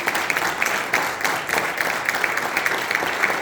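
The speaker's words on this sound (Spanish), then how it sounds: "Denle un aplauso al rey," A church congregation applauds, a dense patter of many hands clapping without a break, steady and fairly close.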